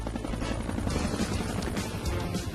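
A cartoon helicopter from PAW Patrol flies with a steady, dense rotor rumble and faint rhythmic pulsing. It sounds loud and continuous throughout, with no voices over it.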